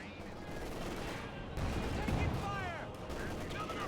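Tank cannon blasts and rattling gunfire from the strategy game Company of Heroes 2, rapid overlapping bursts with a heavier boom midway, fairly quiet, under a commentator's voice.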